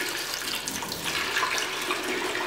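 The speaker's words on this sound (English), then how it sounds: "then I go ahead and put the hot water in" Hot water pours steadily from a tap into a container while an intaglio hardground is being removed, a continuous close hiss and splash with no talking.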